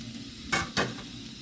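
Pork bones frying in oil in a home kitchen pan, with two brief bursts of stirring and scraping over a faint steady sizzle.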